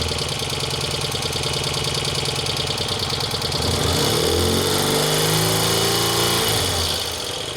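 A warmed-up motorcycle engine with a noise fault and a charging problem runs steadily at about 2000 rpm, a loud, continuous buzzing drone close by that rises slightly in pitch partway through, with no talk.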